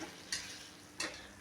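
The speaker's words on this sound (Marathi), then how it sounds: "ते असे कढईमध्ये शिजायला टाकणार आहे, गरम पाण्यामध्ये थोडा वेळ शिजून घेणार आहे मी ते शेंगा" Drumstick pod pieces cooking in hot water in a kadhai give three brief, sharp splashing clatters, separated by a quiet low simmer.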